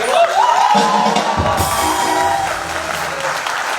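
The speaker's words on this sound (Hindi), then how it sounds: "जोरदार तालियां हो जाए।" Applause from a comedy show studio audience, a broad steady wash of clapping and crowd noise lasting throughout, loud and close, with a musical tone at the start and no clear talk.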